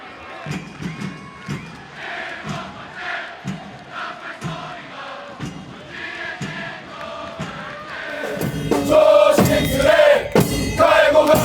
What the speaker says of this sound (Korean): 다 같이 뜨거운 박수와